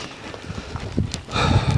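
A filly's hooves thud rapidly in a steady running rhythm, close by, with scuffing and a faint breathy snort over a rough outdoor background.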